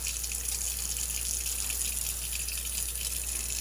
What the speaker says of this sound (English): I'm just going to run cold water over the leaves of parsley